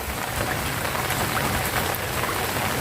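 Steady rain falling over a rice field, a dense close hiss of drops pattering on surfaces, even and continuous without voices.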